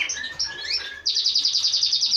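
Canaries in an aviary chirp continuously and close by, with varied warbling notes giving way to a fast, steady run of bright repeated tweets.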